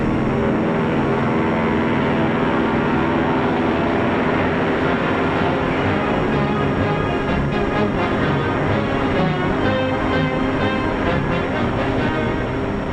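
Lockheed military propeller aircraft of around 1940, such as Hudson bombers or P-38s, flying with a loud, steady engine drone that holds for the whole stretch, with no talk over it.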